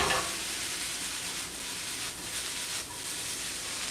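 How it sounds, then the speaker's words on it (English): Onions frying over medium-high heat in a pan, a steady broadband sizzle with faint stirring scrapes, close and continuous with no talk. "Now's a good time to stir your onions."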